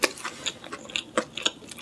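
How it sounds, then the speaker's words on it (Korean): Close, crisp crunching from chewing crispy Papa John's pizza crust, with quick irregular bites repeating throughout and nothing else in the background. "엣지 부분이 굉장히 바삭바삭하다."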